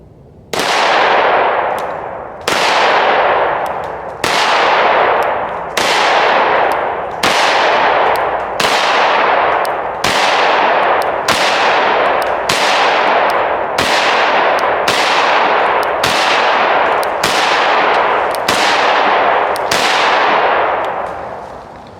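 A steady series of loud, sharp 10mm pistol gunshots, about one every one and a half seconds, each blast ringing out and decaying before the next; no talking.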